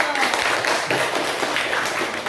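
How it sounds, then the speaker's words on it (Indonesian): A classroom of students applauds with a continuous burst of many overlapping claps, and voices mix in underneath. "Iya, bagus, beri aplaus."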